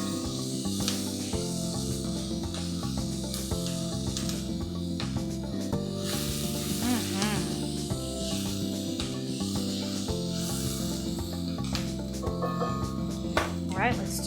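Apple cider vinegar hitting garlic already cooking in a hot pan, a steady loud sizzle and hiss with crackling spatter throughout, a voice speaking over it.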